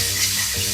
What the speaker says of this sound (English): I got about a cup of milk I'm going to whisk in